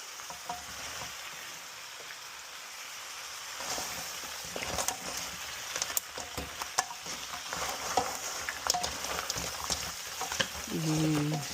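Blue crabs with red pepper are stirred in a pan, giving a continuous sizzle and frying hiss with repeated scraping and clinking of the utensil, close up, with a brief voice-like sound right at the end.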